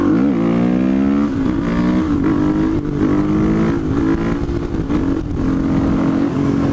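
A supermoto motorcycle engine revs hard and loud, climbing through second, third, fourth and fifth gear, with brief dips at each upshift as the pitch resets and rises again, continuous and close throughout.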